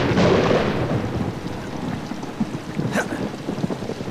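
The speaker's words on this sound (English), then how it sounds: "I honestly think lightning is the thing that freaked me out the most in this game since thus far." Thunder rumbles through a storm in the horror video game Outlast, a loud, continuous roar with a rain-like hiss that swells and crackles, with no other sounds over it.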